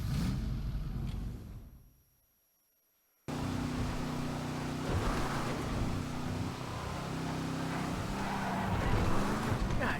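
The Chino car in GTA Online gives a deep, boat-like engine drone that fades out, falls silent for about a second, then returns as a steady rumble to the end.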